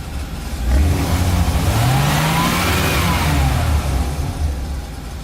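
A service truck's gasoline engine runs close and loud at idle, with a brief swell in pitch like a light rev before it settles back to a steady rumble.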